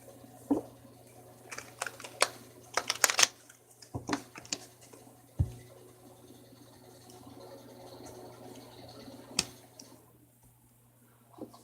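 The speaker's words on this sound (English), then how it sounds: "All right, one more shuffle." Tarot cards shuffled by hand at a quiet table make a run of crisp ticks and riffling clicks, bunched in quick bursts with pauses between, close and fairly soft with no talking.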